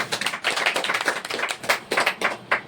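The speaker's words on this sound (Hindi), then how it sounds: "पहले ताली बजा दीजिए इधर।" Hands clapping in a church gathering, a small group tapping out uneven, close claps that rise and fall in loose bursts rather than a steady roar, with no talking over it.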